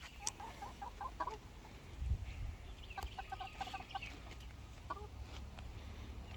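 Backyard chickens in a coop cluck in short, repeated bursts at moderate distance, with a few sharper calls over a steady low outdoor rumble.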